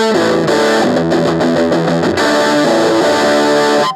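An electric guitar through a small Fender Mini Deluxe combo amp with the treble turned up plays loud, distorted chords and notes that ring out continuously before cutting off at the end.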